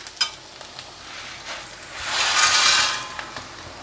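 Urad dal vadiyalu dropped into a pan of browned onion, a soft hiss that swells into a brief burst of sizzling before fading, with a few faint clicks of utensils nearby.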